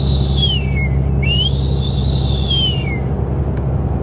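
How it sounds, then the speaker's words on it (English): Turbo whistle on a 5th gen Cummins diesel truck fitted with a Banks Ram intake, a high tone rising and falling twice over a steady low engine drone, fairly loud and close with no talking. "you can definitely hear that turbo spool up, more whistle"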